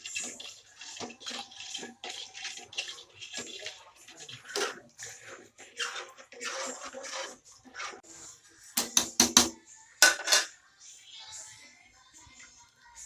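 A spoon stirs chunks of squash in a cooking pot for squash maja, giving a steady run of soft scraping and wet clattering strokes, with a few sharper metallic clanks toward the end.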